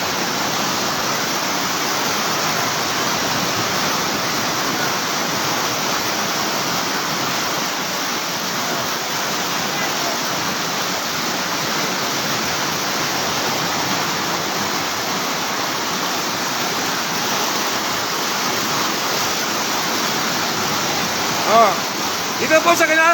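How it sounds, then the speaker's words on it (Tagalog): Floodwater rushes through Bonbon, Libon, Albay in a steady, loud roar that fills the scene without letup, with a few brief knocks near the end. "lalong lumakas ang baha."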